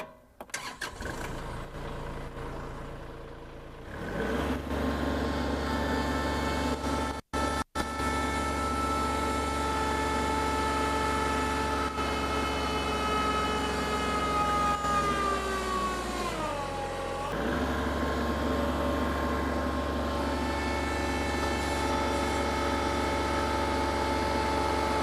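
Kubota L3301 tractor engine labours under load while hooked to a load cell in a two-wheel-drive low-range pull, a steady loud diesel drone after startup with a brief dip and a sagging pitch near the end.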